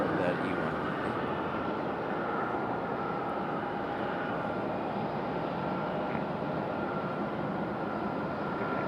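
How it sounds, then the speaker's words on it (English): Embraer E190 airliner touching down at Raleigh-Durham International Airport, a steady broadband roar of engine and rolling noise, distant and constant throughout without distinct peaks. "Nice smooth touchdown for that E190."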